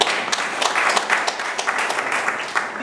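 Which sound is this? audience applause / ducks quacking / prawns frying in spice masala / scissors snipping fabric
audience applause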